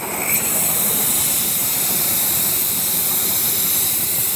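A 7.25-inch gauge model steam locomotive gives off a steady, loud hiss of steam, broadband and continuous with no break, along with a faint low rumble beneath it.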